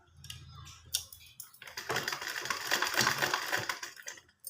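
A sewing machine stitches a pant pocket in a rapid, close mechanical patter that starts after a few separate clicks and runs on steadily before stopping abruptly.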